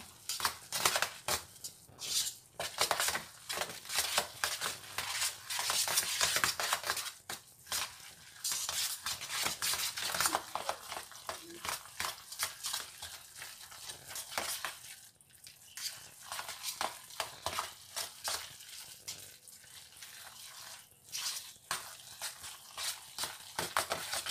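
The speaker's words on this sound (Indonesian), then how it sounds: "Kita aduk semuanya agar bahan-bahannya tercampur dengan rata ya, sama kecapnya, bumbunya." Chicken and vegetable dumpling filling mixed with soy sauce and seasonings in a bowl, irregular wet scraping and clinking strokes of a utensil, close and fairly quiet, continuing with brief pauses.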